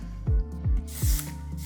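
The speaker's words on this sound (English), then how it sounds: "I'm gonna add one more spray of hairspray." A single burst of hairspray is sprayed onto styled natural curls: a short, close hiss that follows a few soft low thumps. No talking is heard.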